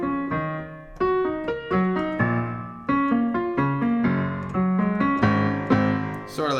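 Piano playing the main part of a song, a bouncy repeated chord-and-melody figure struck with some force, moderately loud and alone with no talking.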